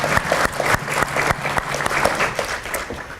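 Audience applause for panelists at a San Diego community service panel discussion, a dense, steady patter of many hands clapping at moderate loudness throughout, with no talk over it.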